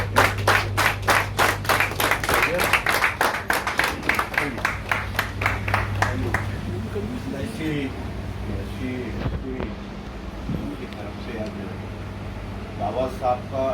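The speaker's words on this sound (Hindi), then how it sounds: "इसको खड़े होकर जोरदार तालियां बजाएं" At a Baba Saheb Ambedkar 130th birth anniversary gathering in an SC-ST association office, a small audience claps in steady rhythmic unison for several seconds before the claps fade and people start talking over a low hum.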